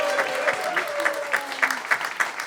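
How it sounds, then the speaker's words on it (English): Applause from a cabaret audience for a concert cast in a New York club, brisk continuous clapping at moderate volume, with a faint voice under it. "Please give a big round of applause for this incredible cast."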